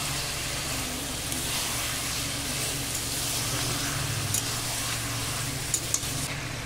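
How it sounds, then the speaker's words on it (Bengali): Chicken pieces fry with turmeric in a pan, giving a steady close sizzle with occasional light scrapes and clinks as they are stirred. "মাংসটা খুব ভালো করে ভেজে নেব। হলুদ দিয়ে দিচ্ছি। খুব ভালো করে নেড়ে দেব।"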